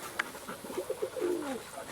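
Pigeons coo softly near a coop converted from a johnny house, several short low coos in a quick run with a faint chirp at the start.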